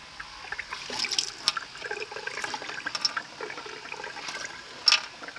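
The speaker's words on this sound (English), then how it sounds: "This is how you pump the water." Water pumped into a newly fitted sink in a converted bus kitchen, a steady trickling, splashing flow with small mechanical clicks and knocks, close by and moderately loud.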